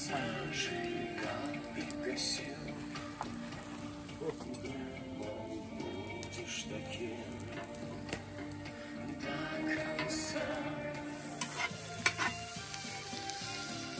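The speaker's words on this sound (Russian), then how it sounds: "Разжариваем лук." Onions frying and sizzling in a pan for a borscht, with steady crackling and occasional stirring scrapes throughout, close and continuous with no talking.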